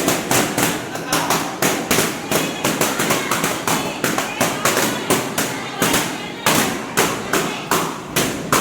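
A long run of firecrackers bursting at a first birthday celebration in rapid, loud cracks, a dense crackling barrage with a brief pause before it resumes.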